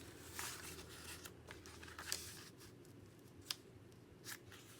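Scissors snip through fabric pieces in a run of quiet, close crisp cuts spaced irregularly, with faint rustling of the material in between and no talking.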